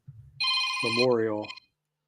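An electronic telephone ringtone trills loudly and steadily for about a second, a bright warbling tone with a rising and falling melody, following a brief low murmur of talk.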